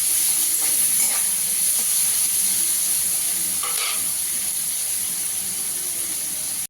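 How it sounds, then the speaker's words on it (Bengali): Chopped onions fry in a pan with a continuous soft sizzle and hiss, broken by a few faint stirring scrapes and clinks. "পেঁয়াজটাকে একটু ভালো করে ভেজে নিতে হবে।"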